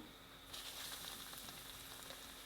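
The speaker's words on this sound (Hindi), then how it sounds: "ऑयल गर्म हो गया। अब इसमें आहिस्ता आहिस्ता अपने बॉल्स डाल दिए।" Meatballs being lowered into hot oil, a soft steady sizzle that swells up after a quiet start and holds evenly, fairly faint.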